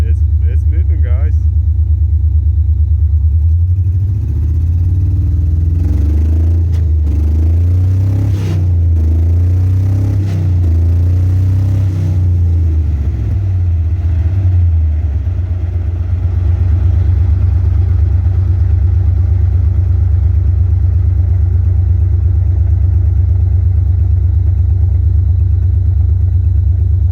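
A 2000 Pontiac Firebird's engine idles loudly up close, then its pitch rises and falls in a wavering run as the car pulls away in first gear, settling back to a steady low drone.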